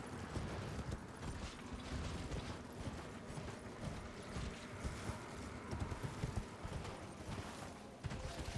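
Hooves of Torrent, the spectral steed in the video game Elden Ring, clip-clop in a steady rapid galloping rhythm, close and fairly loud throughout, layered over a dense rumbling game soundscape with faint creaking mechanical tones and no talking.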